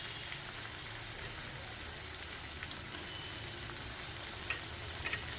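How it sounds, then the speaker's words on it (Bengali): Potatoes and taro sautéing with roasted ground spices and sugar in hot oil, giving a steady, moderate sizzle with a few faint clicks near the end and no voices. "আলু আর কচুটা মশলার সাথে কষিয়ে নিচ্ছি"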